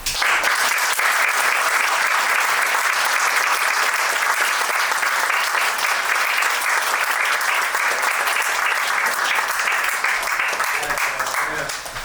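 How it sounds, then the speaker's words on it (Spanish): An audience at an event about letters between Sábato and Lozada Acuña breaks into long, loud, sustained applause from many hands, holding steady for about twelve seconds before easing slightly at the close. "pido para ellos un aplauso"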